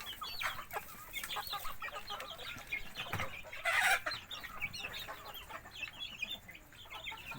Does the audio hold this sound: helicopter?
no